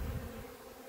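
Honeybees buzz steadily inside an open beehive during an inspection for queen cells, a soft continuous low hum with no voices.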